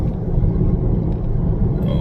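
A car rolls along a road past Smyrna Prison, its low, steady rumble filling the cabin close up and without pauses.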